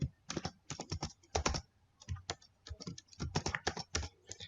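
Rapid bursts of keystrokes on a computer keyboard while entering a C++ sorting program, clustered in quick runs with short pauses between, close and clear with no talking.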